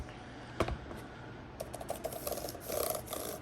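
Fingers type on an iPad keyboard, giving quick, light, clicky keystrokes in short bursts after one louder tap, close and quiet, with no talk.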